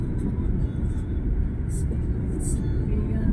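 Steady road traffic rumble on the Maharlika Highway, a continuous low engine drone from passing vehicles heard close by without pauses.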